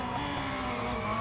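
A car skids in the racing game Real Racing 3, a continuous loud engine roar with tire noise running steadily through the moment.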